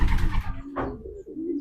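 Racing pigeons in a loft give a short, soft coo, close and faint, after a brief burst of rustling.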